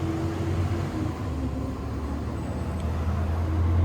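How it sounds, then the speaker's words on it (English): Steady low road rumble and tire hum from inside a moving 1992-1996 Ford F150 pickup, constant and droning with no talking. "Sorry for the road noise again."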